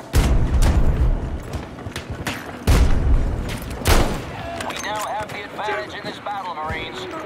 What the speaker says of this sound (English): They're throwing so many nades.